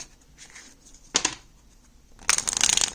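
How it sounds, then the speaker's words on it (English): Tarot cards being shuffled in two quick bursts, a short riffle followed by a longer, louder flurry of snapping cards, close by. "Let me shuffle this one more time."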